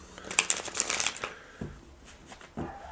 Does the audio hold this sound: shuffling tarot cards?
yes